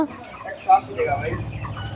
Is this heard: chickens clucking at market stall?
yes